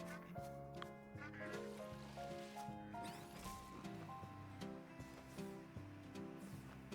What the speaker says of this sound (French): Nous avons les canards qui s'affolent.